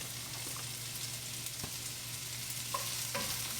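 Baby portobello mushrooms frying in a pan for a gluten-free, dairy-free seafood pasta, a steady close sizzle with a few soft stirring clicks and scrapes, no talk.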